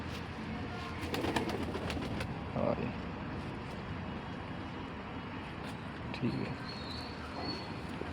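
Pigeons coo in low, soft bursts a few times against a steady background hum.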